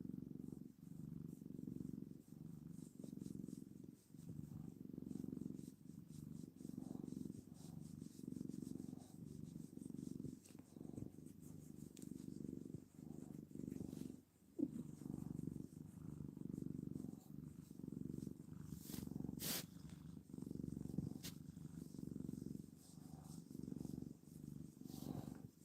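A cat named Maximus purrs close and steady for the whole stretch, a low rhythmic rumble with no talk over it.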